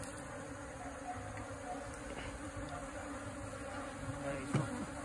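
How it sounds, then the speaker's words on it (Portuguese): Bees buzz steadily around a hive box being repositioned during a rescue of a colony from inside a tree trunk, a continuous close swarm hum with faint handling knocks and no talk. "Para as abelhas entrar com toda tranquilidade"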